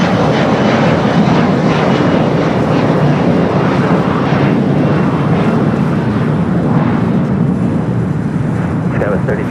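An airliner takes off from runway 25 right at Los Angeles International Airport, a loud sustained jet engine roar that stays strong and steady throughout.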